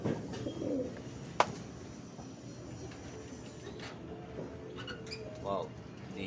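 A pet dove coos softly in short phrases near the start and again toward the end, over a steady background hum while a person talks.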